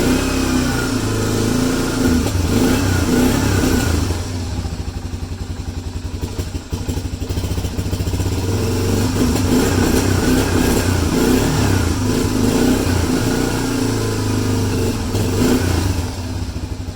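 A cold ATV engine with an electric fuel pump idles steadily in 39°F air, a loud continuous mid-pitched running note with a brief dip in level partway through, then holding a rough, even idle to the end.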